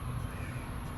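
A crow caws once or twice at a distance during an outdoor morning walk, a faint, harsh call over soft background noise.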